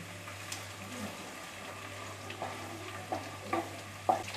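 Dry and green chillies with garlic fry in oil as a tempering for a dhaba-style chicken curry, making a faint, soft sizzle over a low hum, with a few light crackles and utensil clicks that grow slightly louder toward the end.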